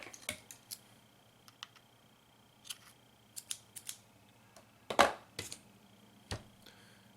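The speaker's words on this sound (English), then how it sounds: "I'm going to cut a little bit more off." Scissors snip cotton wick for a vape coil, a series of crisp, close, metallic cuts spaced irregularly over quiet background, with one louder cluster of snips in the middle.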